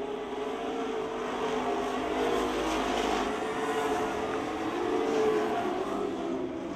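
Race cars roar around the Speedzone track in a dense continuous engine drone, steady and fairly distant, swelling slightly as the pack passes.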